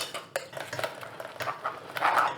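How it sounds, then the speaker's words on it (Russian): A fork scrapes and clinks against a dish as celery root is pushed around, several short metallic scrapes up close, with no voices. "Поправляю немножко вилкой."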